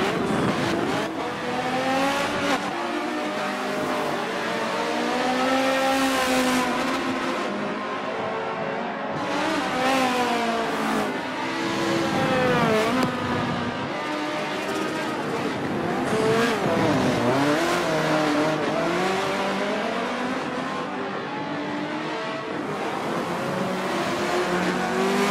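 Race cars on the final lap in the video game Forza 7 at Yas Marina, a continuous loud engine scream rising and falling through gear changes, with tire squeal and cars passing.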